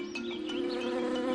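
Giant hornets attacking a honeybee hive, a steady close insect buzz with wingbeat whine, loud and alone.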